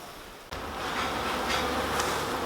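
Honeybees hum from an opened beehive during a hive inspection. The dense, steady buzz rises suddenly after a brief dip and carries on loud and close to the end.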